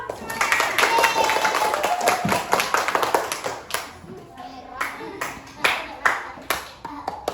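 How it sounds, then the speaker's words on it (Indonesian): Children in a music class clap their hands, a run of sharp separate claps at first that thins into scattered rhythmic claps, with a teacher's voice and kids' voices talking over them. "Dan tepuk tangan dulu."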